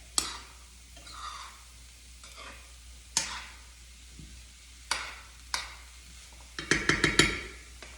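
Veggies saute in a very full pan with a low steady sizzle, broken by several scraping stirs and a quick run of utensil clinks near the end, close and alone.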